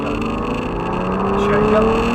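Aston Martin DB9 on a race track, its engine a steady loud drone with a rising pitch as the car accelerates, while a driving instructor talks over it.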